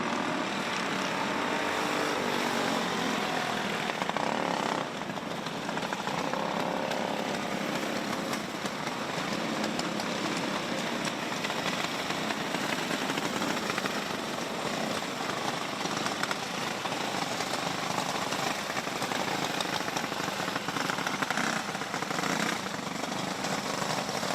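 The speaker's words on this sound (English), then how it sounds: "Coming out onto the track is our Junior 2 Wing Karts." Junior 2 wing karts run laps at a dirt karting speedway. Their engines make a continuous, loud, buzzing drone throughout that rises and falls a little as the karts circle, with no voices over it.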